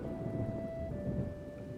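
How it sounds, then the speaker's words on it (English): Thunderstorm in the Choices game, a deep low rumble of thunder under steady rain, with a faint tone sustained over the storm noise. "A blast of thunder booms overhead,"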